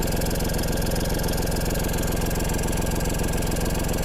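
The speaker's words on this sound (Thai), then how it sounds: "เราเสียงวันนี้เดินเบาก่อนแล้วอุ่นเครื่อง" A tractor's diesel engine idles close by while warming up, its low chugging pulse even and unbroken, with no voices over it.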